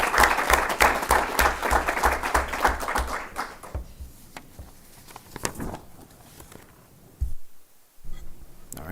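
Applause from the audience at a Huron Valley Schools board of education meeting, dense steady clapping for several seconds that thins into scattered claps and fades near the end.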